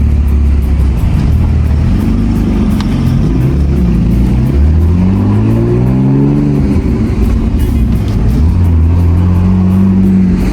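A BMW E46 car engine revs repeatedly up and down, loud and close, the pitch climbing and falling in several throttle blips over a constant idle drone.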